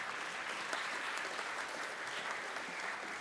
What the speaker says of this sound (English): Yeah, you can clap for them.